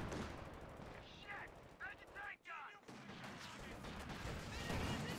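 Gunfire from a Company of Heroes 2 multiplayer battle between OKW and Soviet forces, with heavy machine-gun bursts and shots rattling continuously, a brief lull midway, and faint voice-like game chatter mixed in.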